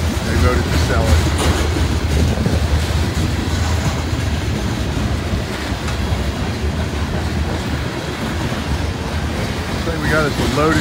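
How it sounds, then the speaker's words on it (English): A loaded grain train rolls past close by in a steady, heavy rumble with faint clickety-clack of wheels, holding loud for the whole stretch; a voice talks briefly over it. "We got us a loaded grain train here."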